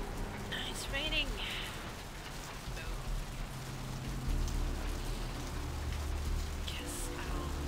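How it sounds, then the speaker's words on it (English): Steady rain hisses throughout in Santa Monica in the video game Vampire: The Masquerade – Bloodlines, with brief voices and a few short tonal chirps over the downpour. "It's raining."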